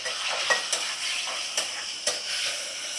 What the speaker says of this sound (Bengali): তো আলুটা আমি ভেজে নেব প্রথমে।